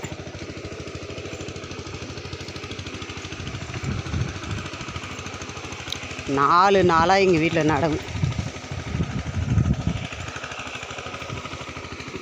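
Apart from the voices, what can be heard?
small tractor ploughing a paddy field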